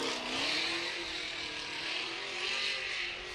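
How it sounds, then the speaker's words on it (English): A Nissan 370Z drift car at Formula D Texas holds its engine on the rev limiter, giving a sustained, buzzing high-rev drone that wavers slightly, heard from a distance with no talking. "Standing on that rev limiter as Castro pulls through the finish line"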